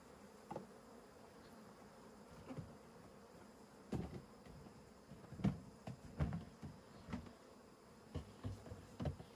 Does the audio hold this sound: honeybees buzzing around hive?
yes